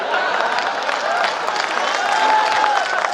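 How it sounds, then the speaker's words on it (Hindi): Audience applauding at a kavi sammelan poetry event in Rajnandgaon, dense continuous clapping at close range, steady throughout and heard on its own. "आप जोरदार ताली बजाओ"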